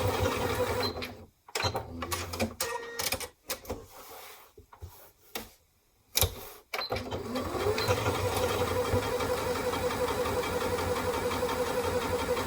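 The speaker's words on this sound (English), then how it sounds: "I'm going to run 2 rows of stitching across that to finish this pocket" A sewing machine stitches two rows across a tote bag pocket, whirring up close in stop-start bursts with short pauses, then running steadily for a long continuous stretch, with no voices.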